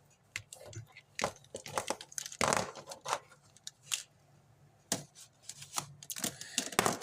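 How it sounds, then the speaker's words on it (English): Paper being cut with small fussy-cutting craft scissors at a tabletop, making a close, irregular series of crisp snips and rustles with short pauses between cuts. "And I'm just going to cut these out with regular fussy cutting scissors."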